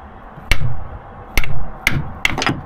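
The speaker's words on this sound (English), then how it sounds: "give them a whack with a hammer" Five sharp metallic hammer whacks on a Rover P6 engine part near the crank pulley ring out at uneven intervals, each a loud close strike with a short ringing tail, no talking.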